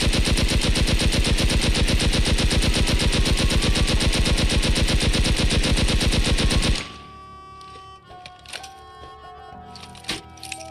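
Rapid, loud sustained automatic fire from an HMLMG loaded with explosive ammo in the game Rust, a dense rhythmic burst lasting several seconds before cutting off into quieter clicks and scattered impacts.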